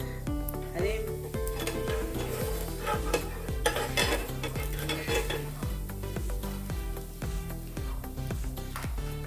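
Dosa batter poured onto a hot pan for a crispy ghee roast sizzles steadily close by under background music with a regular beat, with occasional clinks of a utensil.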